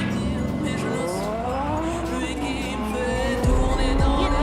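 A racing car engine roars loud and steady, its pitch climbing and falling as it speeds past, with tire squeal and a dense wash of other noise around it.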